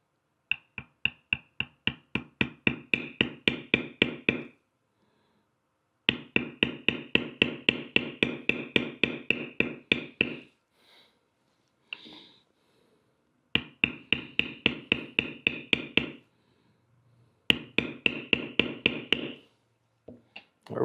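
Rapid, steady mallet taps on a leather beveler while tooling a horse design into leather, coming in close, crisp bursts of a dozen or more strikes separated by short pauses.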